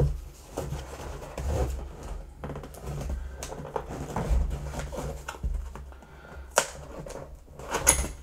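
A Neewer universal phone stabilizer kit being unpacked nearby, with a run of soft crinkling, tapping and scraping handling noises and a couple of sharper clicks toward the end, no talking.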